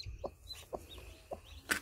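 A mother hen of the blue-egg-laying breed, with chicks hatching, gives four short, soft, low clucks spaced through a quiet moment. Faint high chick peeps sound between the clucks.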